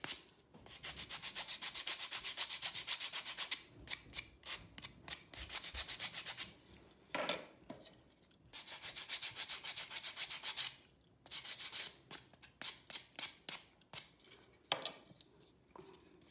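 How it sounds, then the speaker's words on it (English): A nail file lightly sands a painting canvas in quick rhythmic rubbing strokes, close and fairly soft, broken by short pauses between bursts of scraping. "I'm going to just lightly sand these. This is just a nail filer."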